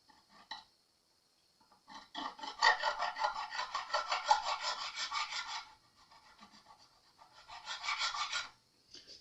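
Fine file rasping across a plastic nut on a Telecaster guitar, cutting string slots in close, steady back-and-forth strokes, a long burst followed by a quieter pause and a second shorter run.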